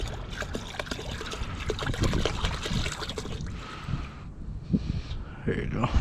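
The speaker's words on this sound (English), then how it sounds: "I'm choosing to just pour it right in here" Safford's trailer strap deicer solution is poured into a storage container outdoors, a steady splashing trickle with gusty wind noise and occasional light knocks, while a person talks over it.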